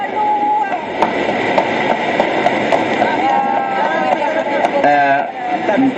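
A train waits at a station before departure, a steady rumbling hum with faint clanks under close conversation, and a brief rhythmic clatter near the end.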